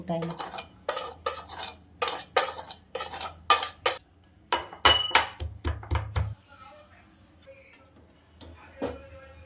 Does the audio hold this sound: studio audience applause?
no